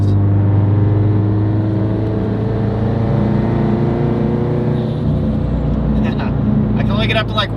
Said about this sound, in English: It makes crazy turbo noises.